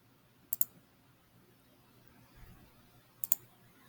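Two brief sharp computer mouse clicks, about three seconds apart, each a quick double tick, close and fairly faint over a quiet room hum.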